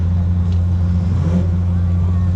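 A Toyota Supra drag racing car from the PT3 Racing stable at a drag racing meet, its engine droning steadily and close with a low, rough hum and a brief rise in pitch.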